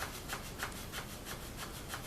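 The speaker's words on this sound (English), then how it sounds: "I'll just show you how I'm sanding this very easily." Steady, even rubbing of sandpaper on the wood of an old Kraftsman mandolin during restoration, close and fairly quiet, with soft repeated strokes roughly every third of a second and no voices.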